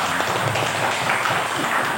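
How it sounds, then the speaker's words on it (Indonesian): A crowd at an Indonesian regional meeting of government contract workers claps together, a loud, dense, continuous patter of hands that fills the whole two seconds. "Tepuk tangan dulu semuanya"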